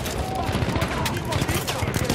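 Enemy machine gun fire in Battlefield 1 rattles in rapid overlapping bursts amid dense battle noise, with voices shouting beneath the gunfire.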